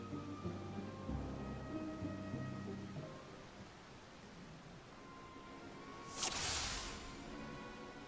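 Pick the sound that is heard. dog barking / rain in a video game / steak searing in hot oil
rain in a video game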